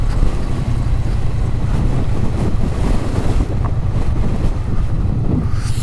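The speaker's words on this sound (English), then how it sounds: "It's a bit windy." Strong wind on a hilltop during a motorcycle test ride, roaring steadily and loudly across the microphone in heavy low buffeting gusts for the whole stretch, with no talk.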